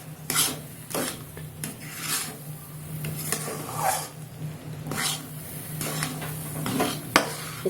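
A spoon scraping and stirring semolina cooked in milk as halwa in a pan, repeated rasping strokes in an uneven rhythm, close and clear over a faint steady hum.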